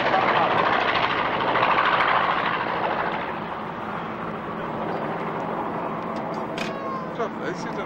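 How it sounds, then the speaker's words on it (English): A Hellcat aircraft taxiing at the Duxford Flying Legends airshow, its engine giving a steady, broad rumble that eases slightly partway through, with a commentator's voice running over it. "The Hellcat's taxiing back in"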